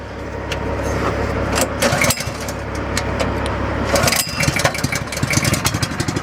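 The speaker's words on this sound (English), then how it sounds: "Let's get this pump started." A small engine on a liquid transfer pump for a tank cranks over, catches and settles into a steady mid-pitched idle, with clinks and rattles of handling nearby and no talking.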